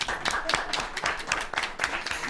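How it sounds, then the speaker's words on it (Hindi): An audience claps at a Christmas special event in Manchester, a short run of steady, rhythmic handclaps with faint voices underneath. "वाह, इनके लिए बहुत सी तालियां"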